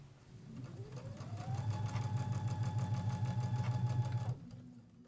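A sewing machine runs steadily while stitching handles onto a reusable fabric grocery bag, its motor whirring up to speed with a rapid mechanical needle chatter, then slowing and stopping near the end, with no talking.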